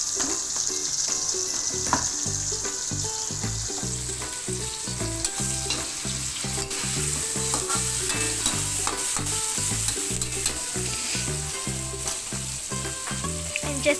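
Moong bean dal with soya and caramel powder stirred in a hot pot: steady sizzling hiss under repeated rhythmic scraping and stirring strokes, close and continuous, no voices.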